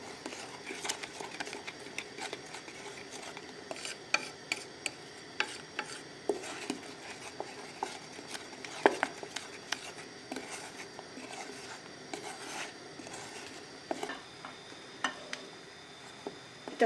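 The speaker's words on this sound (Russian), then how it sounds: "При постоянном помешивании довожу до кипения." A spoon scrapes and taps steadily as chocolate glaze is stirred in a pot over medium heat on the stove, with a faint hiss of the heating mixture beneath the repeated stirring strokes.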